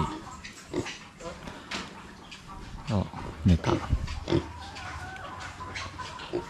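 Brown piglets grunt and snuffle up close in short, irregular bursts, with someone speaking softly over them.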